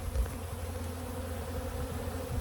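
Honey bees at a hive of an aggressive colony, a dense continuous buzzing drone up close, steady and without pause.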